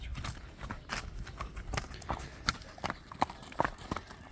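Horse hooves clip-clop on hard ground as a horse is walked back and forth, a series of distinct, fairly close knocks in an uneven walking rhythm, with faint voices in the background.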